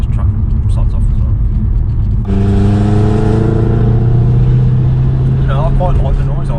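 A Mercedes C63 AMG engine revs loudly as heard from inside the car, a deep rumbling idle that jumps into a rising, raspy roar mid-clip, with faint talk in the cabin.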